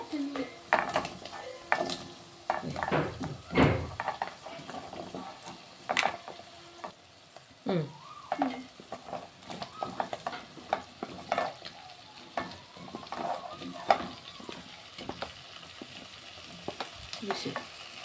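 Onions and potatoes fry in a pan, sizzling under repeated clattering stirs of a spoon against the metal, close and irregular, with occasional voices in the background.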